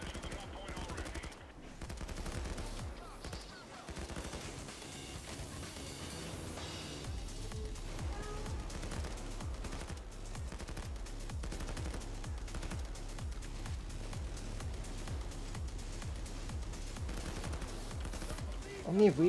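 Commando 553 rifle fire in Payday 2, fast automatic bursts repeating steadily under in-game noise, fairly quiet overall with a louder crack at the very end; voices talk faintly in the background.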